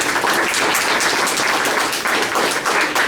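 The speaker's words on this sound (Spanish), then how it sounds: "denle un fuerte aplauso al doctor" An audience at a human rights commission event applauds a doctor with steady, loud, densely packed clapping that continues without a break for the whole stretch.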